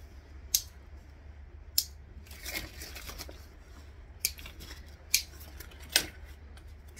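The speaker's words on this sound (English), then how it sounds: "Trim off the tails." Scissors snip thread tails while a bag is sewn, giving five or six crisp, close metallic snips spaced irregularly, with light handling rustle between them.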